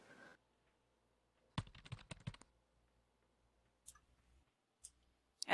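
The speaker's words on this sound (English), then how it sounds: "And I'm typing as well as talking," Bursts of computer keyboard typing, a quick run of light clicks followed by a few scattered keystrokes, fairly close and clear with no talk over them.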